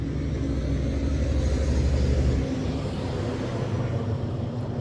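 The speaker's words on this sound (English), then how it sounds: "here comes another truck, and every time a truck comes by, it drowns me out." A truck passing by outdoors, a steady loud engine rumble that drowns the scene and then eases off partway through as the vehicle moves away.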